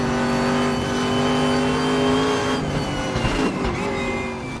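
A Koenigsegg CCGT engine in a sim racing video game, a loud sustained high-pitched roar with strong harmonics and a brief dip in revs near the end.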